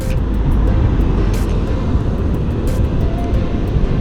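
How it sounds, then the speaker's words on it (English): A loud engine drone rumbles steadily throughout, a motor scooter passing close by with a constant buzzing roar. "that noisy scooter's just come past over here"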